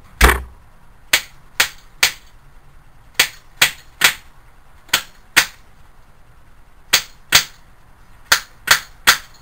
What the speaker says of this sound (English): So using this pipe, hammer that, so that seal, that ring goes down.